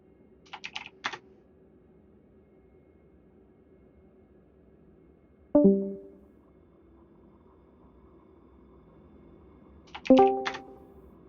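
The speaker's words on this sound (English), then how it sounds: "I can hear a keyboard." Bursts of computer keyboard typing heard over a radio or voice channel during an Elite: Dangerous session, with a quick flurry of keystrokes at the start, a sharp clack midway and another cluster near the end, over a steady low hum.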